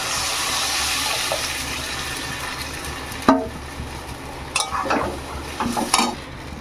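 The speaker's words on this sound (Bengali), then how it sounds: "এবার আমি ডালের গোলাটা ঢেলে দেবো" Onions fry in sizzling oil in a pan, then a thick pea-lentil paste pours in with a hiss and a few clattering bumps and scrapes.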